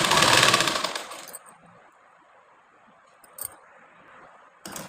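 A sewing machine stitching a blouse runs in a short loud burst at the start and then goes quiet, with two brief bursts of stitching later on.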